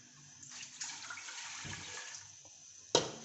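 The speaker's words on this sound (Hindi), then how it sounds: "पानी डालेंगे जी कुकर में" Water pours into a pressure cooker on a lit burner, a soft steady splashing stream lasting a few seconds, quiet and close, ending with a brief clatter.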